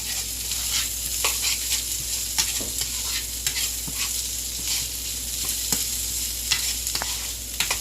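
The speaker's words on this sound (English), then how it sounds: "I'm gonna finish cooking my bell peppers" Bell peppers sizzle steadily in a hot pan with frequent scraping and stirring clicks, close and continuous.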